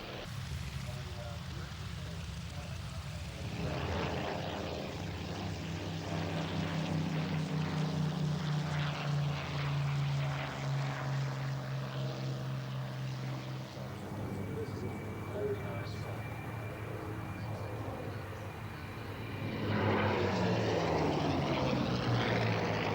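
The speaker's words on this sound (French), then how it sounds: "le Curtiss P-40 à tête de tigre et le Bell P-63 King Cobra sont tous deux motorisés avec des V12 de la marque Allison" A Curtiss P-40 and a Bell P-63 Kingcobra, both with Allison V12 engines, fly at the 1999 Duxford airshow, their steady propeller drone swelling and shifting pitch as they pass, with a voice talking over them.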